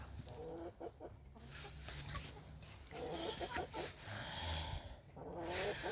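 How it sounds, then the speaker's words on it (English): A young rooster crows quietly outdoors, soft strained calls rising in short bursts over low background rumble and other fowl clucking. "He started crowing, and it's really cute."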